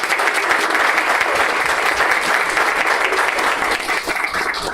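A room of attendees at a leadership council launch event applauds its founding members, loud, dense clapping that stays close and sustained throughout.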